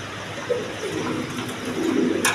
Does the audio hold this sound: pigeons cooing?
yes